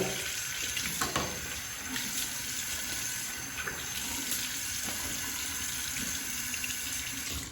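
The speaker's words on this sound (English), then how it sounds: "Let me rinse this and rinse my face a little more with some warm water." Warm water runs steadily from a bathroom tap as a razor and face are rinsed, a continuous splashing hiss with small clinks and shifts in the flow, fairly quiet and close.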